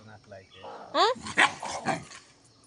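A dog barks loudly several times in quick, close bursts while people talk nearby.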